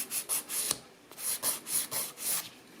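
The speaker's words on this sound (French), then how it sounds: "On lime droit et on remonte." A gel nail is filed with a nail file in short, quick strokes, a soft close rasping that comes in a regular rhythm of about ten passes with a brief pause midway.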